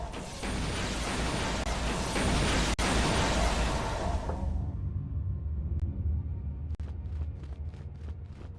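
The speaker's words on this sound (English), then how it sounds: "now we wait for the explosions to happen" Explosions in Knights of the Old Republic II roar as a long, loud, dense rumble for several seconds, then cut off abruptly, leaving a few sharp distant bangs and pops in a quieter space.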